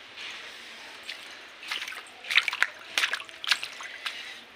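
Rainwater draining from a flooded rooftop, with light drips, trickles and sloshing that grow busier and more irregular toward the middle of the clip, close by, with no talk.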